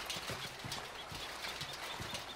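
Horse hooves clip-clop at a steady walking rhythm in the video game Red Dead Redemption 2, fairly faint but clear, with no talking.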